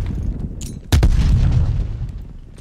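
A frag grenade detonates in Black Ops Cold War gameplay, one sharp loud blast with a heavy rumbling low-end tail that lingers, after a brief bit of faint game noise and gunfire.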